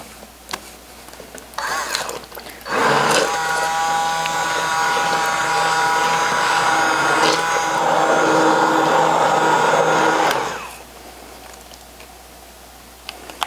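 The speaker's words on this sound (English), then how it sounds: "take our immersion blender and we're going to puree this" An immersion blender purees roasted tomato soup: a motorized whir starts up after a few faint clicks, runs steadily for several seconds with a whining hum, then winds down and stops.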